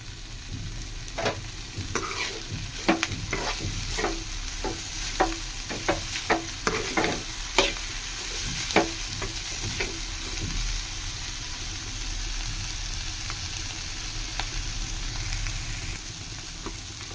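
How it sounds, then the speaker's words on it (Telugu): Cluster beans frying in a pan with a steady sizzle, as a spoon scrapes and stirs in a run of irregular clinks and knocks that fade out, leaving only the continuous sizzle. "చూడండి ఈ విధంగా మాకు ఫ్రై అయితే సరిపోద్ది"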